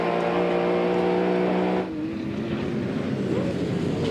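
Dick Johnson's Shell FAI Ford Falcon touring car racing down the main straight at Oran Park in 1994, a loud sustained engine drone that shifts pitch abruptly as it passes, with no voices.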